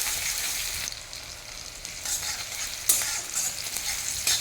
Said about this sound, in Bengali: গোল্ডেন ব্রাউন করে ভেজে নেব।